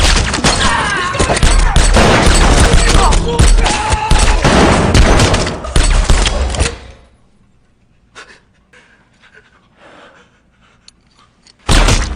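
A dense, loud burst of rapid gunfire and chaotic crashes for several seconds, then near silence with faint rustles and a sudden sharp hit at the end.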